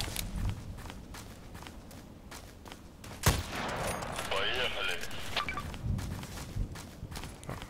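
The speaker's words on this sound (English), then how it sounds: "Let's have a try and use the machine gun just for fun one time." Machine gun fire in the shooter Contract Wars, a string of sharp dry bursts with a loud crack near the middle, heard over in-game footsteps and background noise while a player talks.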